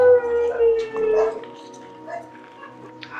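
A very big rescued dog in Thailand howls and whimpers loudly and close by, with a long wavering cry that fades into softer whines.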